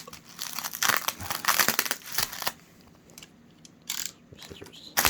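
Plastic packaging crinkles and crackles loudly in close bursts as titanium BMX handlebars are pulled free by hand, with quieter pauses between the rustling spells.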